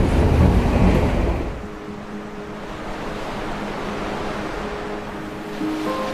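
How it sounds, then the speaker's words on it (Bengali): Ocean waves rumble near Galle Face beach in Colombo, a loud broad roar up front that settles into a steady, softer wash of surf with wind. "রেলের আনাগোনা দেখতে দেখতে সমুদ্রের গর্জন শুনছি।"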